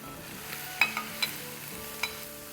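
Whole spices and ground cumin, fennel and cardamom powders fry in a pan with hot potatoes for aloo channa pulao, giving a faint steady sizzle broken by a few sharp clicks of a spoon stirring against the pan.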